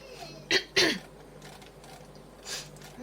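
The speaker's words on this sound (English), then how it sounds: "how much I've had to clear my throat" A person clears their throat close to the microphone, two quick rough rasps followed by a softer one a moment later, in a quiet room.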